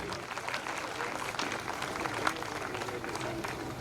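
Applause from an audience at a stage program honouring senior social workers, a steady, fairly quiet wash of clapping that runs throughout, with voices mixed in.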